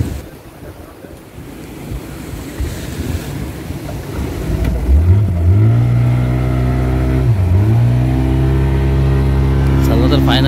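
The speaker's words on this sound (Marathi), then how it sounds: "चला, तर फायनली आपली बोट सुरू झालेली आहे" A motorboat engine starts beside Nevare Kajirbhati beach near Ganapatipule, Ratnagiri. Wind and surf hiss come first, then the motor catches midway and runs loud and steady, its pitch dipping once.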